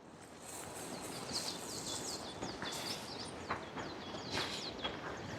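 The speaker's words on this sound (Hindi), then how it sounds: "चिड़ियों की इतनी आवाज़ आप सुन सकते हैं" Birds sing at Ghangaria, Govind Dham, in a quiet mountain setting: faint, high chirps and short trills repeat irregularly over a soft, steady background hiss.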